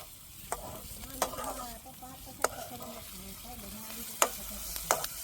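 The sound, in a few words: oil splattering while frying Maggi noodles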